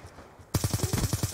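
SCAR rifle firing in the video game Black Ops 2, a sudden loud burst of rapid automatic shots in a tight even rhythm, about ten rounds, close and punchy after a quiet lead-in.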